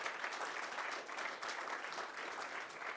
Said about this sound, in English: let's do a little applause for that